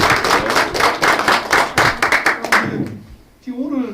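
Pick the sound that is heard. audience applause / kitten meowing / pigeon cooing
audience applause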